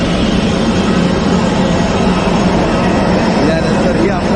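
A loud, constant roar of airplane engines fills the whole clip, steady and unbroken, heard from close by, on a flight from Mopa International Airport, Goa, to Nagpur.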